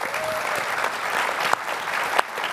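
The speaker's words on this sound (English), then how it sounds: "Give him a round of applause." An audience claps steadily for Paul Whittaker of The Australian newspaper at a news media panel event, a continuous moderate round of applause with a couple of sharper individual claps standing out.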